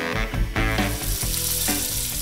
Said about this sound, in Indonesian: goreng potongan-potongan ayam bumbu kuning hingga kering